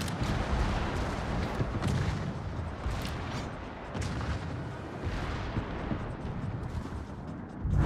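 Warship guns fire in a World of Warships clan battle, with repeated booming salvos and scattered distant blasts rolling over a dense rumbling background, fairly quiet overall.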